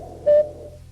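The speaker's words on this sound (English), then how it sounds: "In these stories, when you hear this cuckoo," A single short cuckoo-style signal tone for turning the page of a 1980 Ladybird storybook rings out clearly and briefly over a faint hum.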